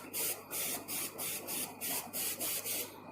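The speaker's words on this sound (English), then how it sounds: "Give it a little spray like the other one." Eight or nine quick pump sprays from a water bottle misting an insect enclosure of brambles for katydids and jungle nymphs, short hissing bursts in an even rhythm, close and fairly soft.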